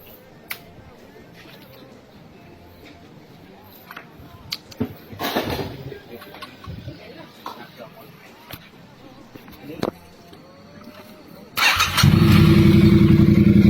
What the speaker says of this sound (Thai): เสียงสตีทวินนะครับ เป็นสลิปออนมีแคทอยู่นะครับ แต่ว่าเปลี่ยน ปลายท่อแล้วก็ คอหลังนะครับ